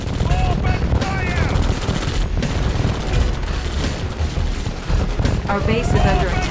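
Unit weapons fire in Red Alert 2 during a battle against seven bots: loud, dense bursts of machine-gun rattle and booming cannon shots overlapping continuously, with unit voice lines spoken over the fighting.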